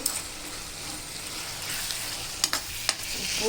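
Ridge gourd and prawn curry is stirred in a pan over a continuous sizzle, with a couple of sharp scraping strokes near the end, close by and free of talk.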